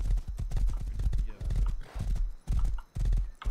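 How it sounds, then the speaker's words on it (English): Horse in the survival video game Rust, hooves clip-clopping in quick uneven bursts with brief pauses, fairly close, while a player talks over it. "Alright, I got this horse."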